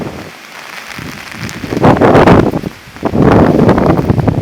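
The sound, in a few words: rain at the garden of Blarney Castle, Ireland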